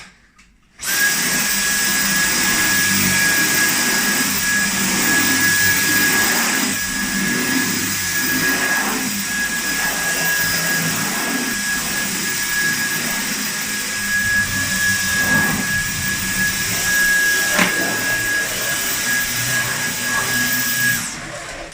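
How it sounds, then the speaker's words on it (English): A Dyson V10 cordless stick vacuum cleaner runs in max mode with a loud, steady, high-pitched whine that holds for about twenty seconds after starting abruptly and cuts off sharply at the end, with no talking over it. "Now, what about picking up the rest on the V10 in max mode?"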